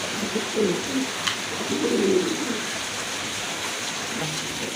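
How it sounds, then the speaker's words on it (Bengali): Maltese pigeons at a pigeon seller's, giving soft, low, repeated coos against a steady hiss of background noise. "আর এক জোড়া মাল্টেস কবুতর আছে এখানে"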